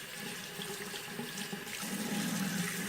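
Water streams from a tap into a sink as a watercolor brush is rinsed clean, a steady close splashing rush that swells slightly toward the end, with no talking.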